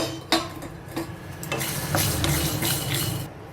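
Peanuts, coriander seeds and dried red chillies sizzle as they fry in a pan. A steady hiss runs throughout, broken by sharp clinks and scrapes of a spoon stirring against the metal.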